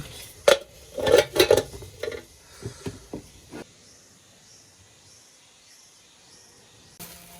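Metal cooking pot and lid handled for cooking rice, giving several sharp clanks and clatters close by in the first few seconds, then quiet, with one more faint knock near the end.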